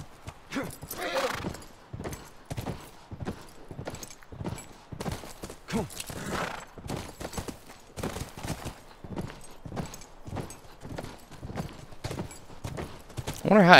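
Horse hooves clip-clop in a steady walking rhythm with a neigh, game audio from The Last of Us on PS4, with a voice talking faintly at times.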